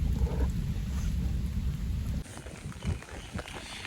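Rain in a Punjabi village easing to light drops, a dense patter for about two seconds that drops off into sparse scattered drips, close by with no talking.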